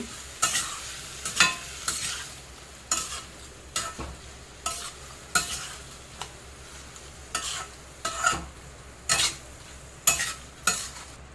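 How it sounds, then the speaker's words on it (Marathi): Ridge gourd thecha with crushed peanuts and salt sautéed in a pan: a soft background sizzle under regular spoon-scraping strokes about once a second, close and quiet. "असं व्यवस्थित परतून घ्यायचं"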